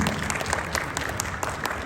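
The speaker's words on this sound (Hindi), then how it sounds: "तालियां होनी चाहिए, मर्द खाली मर्द बजाए" Men in the audience at a fundraiser in Orlando clap together, a steady, fairly loud burst of applause that holds evenly for about two seconds with no talking over it.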